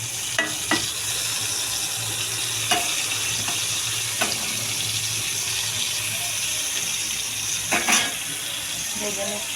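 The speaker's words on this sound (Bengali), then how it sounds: "এই যে আমার মাখানো টমেটোগুলো আমি এখন এখানে ভেজে নেব।" Mashed tomatoes fry in hot oil in a pan, a steady broadband sizzle running throughout, broken by a few sharp spatula taps and scrapes against the pan.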